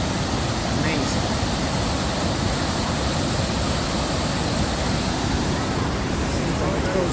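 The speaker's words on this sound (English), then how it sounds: "You can see the raw power of that waterfall, man." Iguazu Falls on the Brazilian side roars in a steady, dense broadband rush heard from a helicopter overhead, with wind buffeting the microphone and engine noise mixed into the unbroken wash of falling water.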